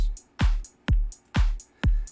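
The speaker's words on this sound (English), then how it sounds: "So the percussion on its own sounds like this." Electronic drums: deep booming kicks built from three layers land at a steady pulse, each followed by a quick, bright hi-hat-like hiss, loud and alone.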